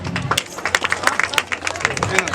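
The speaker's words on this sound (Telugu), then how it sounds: "అందరూ చప్పట్లు కొట్టాలి" Village audience at a women's games competition clapping hands, loose uneven claps from many people in bursts, close and fairly loud with some chatter mixed in.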